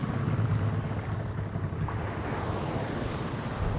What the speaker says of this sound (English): you're basically sailing a 500-ton ship through the water